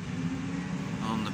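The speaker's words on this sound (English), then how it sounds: "So give it a few revs into forward." A New Holland T7 tractor engine revs steadily while ploughing in a field, a continuous mid-pitched drone held close and loud throughout with no break.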